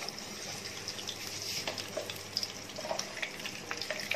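Mustard seeds crackling and popping in hot oil, a soft continuous sizzle with scattered sharp pops, heard up close and fairly quiet.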